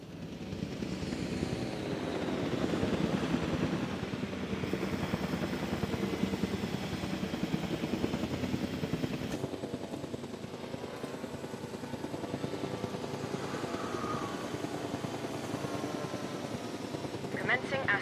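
Helicopter rotor drone from a transport chopper in Jurassic World Evolution 2, carrying a dinosaur, steady and fairly loud throughout with game music and effects layered underneath.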